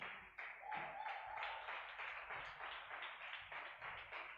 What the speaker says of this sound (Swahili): sisters peke yake wapigie wanaume makofi